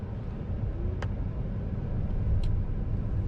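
Car creeping slowly while steering hard at full lock with electronic power steering assist, a steady low engine and road rumble from inside the cabin with a couple of faint brief clicks, no talk.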